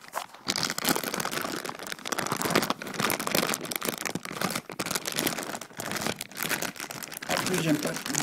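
Sealed plastic and cardboard packaging of a Western Digital My Book Live drive being torn open and unwrapped, with close, loud crinkling and crunching bursts in rapid irregular succession.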